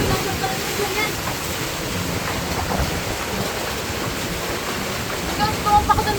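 Big waves surge and crash into a seaside house, a loud, continuous roar of churning water and surf that stays steady throughout, with a few sharper splashes near the end.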